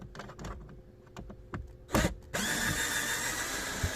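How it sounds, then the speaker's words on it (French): A Torx T20 screw is unscrewed on a BMW 520d (F10-F11) during maintenance, with clicks and tool knocks at first, then a steady whirring rasp of a power driver. "Dévisser la vis."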